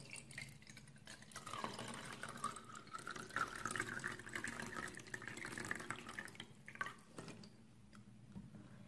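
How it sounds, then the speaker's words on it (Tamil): Water pours steadily into a glass for several seconds, a soft close trickle that fades near the end. "முழுசாக தண்ணி ஊற்றிக்கோங்க."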